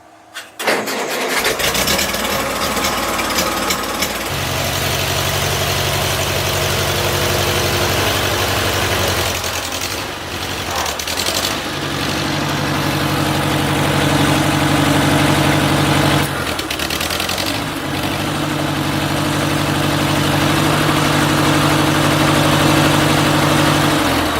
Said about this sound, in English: Told you I had another way to crank the tractor.